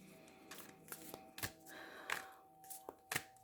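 Moonology Oracle cards being shuffled by hand, a run of soft, quiet riffling bursts and taps spaced unevenly over a few seconds, close and with no talking.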